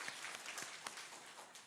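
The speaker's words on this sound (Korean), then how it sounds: "박수로 환영해 주시기 바랍니다" A church congregation claps to welcome a newly registered member during a Sunday worship service, a brief but dense burst of applause heard at moderate distance that stays steady throughout.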